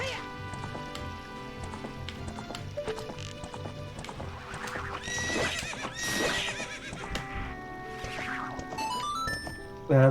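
A horse in the Ocarina of Time video game gives a clear neigh amid clip-clopping hooves, layered over tonal game music and effects throughout.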